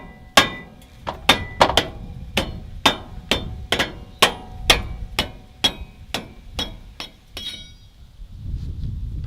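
Soft hammer striking a brake part on a 2014 Ram 3500 HD during front brake disc replacement, about fifteen sharp close knocks in a steady rhythm, then quiet.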